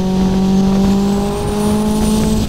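A 700 hp tuned VW Polo sleeper car accelerates hard, its engine note loud and close with steady rising harmonics and a faint whine above, continuous and with no talk.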